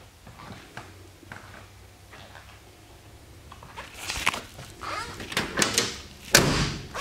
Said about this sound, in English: you can see how good them doors open and shut